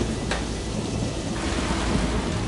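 Thunder rumbling through a stormy evening at a Pennsylvania governor's mansion in 1790, a steady low roar over continuous hissing rain, loud and close throughout.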